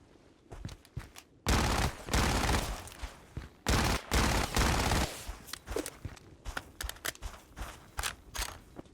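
An anti-tank kit weapon fired in a free video game, loud heavy blasts with sharp bursts and clattering mechanical clicks and shuffling between them.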